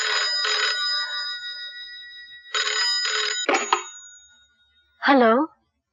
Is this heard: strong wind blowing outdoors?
no